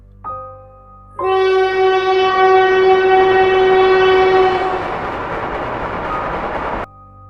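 A train sounds a loud, sustained horn blast close by, followed by the rushing rumble of the moving train. The noise cuts off abruptly.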